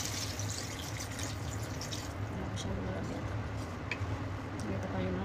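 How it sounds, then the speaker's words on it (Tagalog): A steady rush of water pouring into a pan of tomatoes while cooking chicken wings, continuous and close, with faint clinks and a voice briefly in the background. "next is ilagay na natin yung tubig natin."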